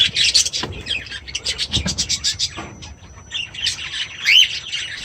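Pet bird chirping in an aviary after a trip to the pet shop, rapid bright repeated tweets in bursts, fairly close, with a lower call in between.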